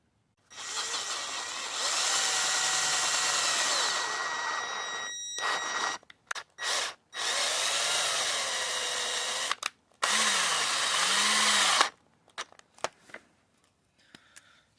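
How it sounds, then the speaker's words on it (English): A power drill turning a thread tap whirs in three sustained bursts, its pitch sliding up and down under load, with short pauses and clicks between runs. "I've just got my tap here connected to a drill"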